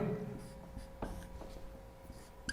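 A pen or marker drawing a circuit diagram by hand makes soft, close scratching strokes in a quiet room.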